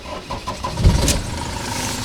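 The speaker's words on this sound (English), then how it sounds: "So it starts on the key." A Fiat Ducato diesel motorhome engine cranks briefly on the key and catches, settling into a low, steady idle nearby.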